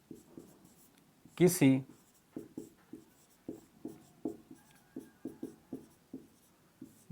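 Chalk or pen strokes tap and scratch in an irregular rhythm on a board or paper during a physics lesson on power factor and choke coils. A voice briefly speaks near the start.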